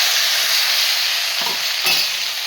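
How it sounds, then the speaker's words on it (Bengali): Ridge gourd frying with potatoes and taro gives a loud, steady sizzle while being stirred in the pan, with a couple of soft utensil scrapes toward the end. "এবার কিন্তু ভালো করে নাড়াচাড়া করে মিশিয়ে নেব।"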